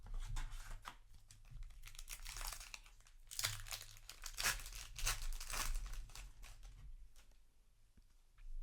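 A foil trading card pack is torn open and handled, with crinkling, crackling bursts of foil and paper that swell and fade over several seconds, close and fairly quiet.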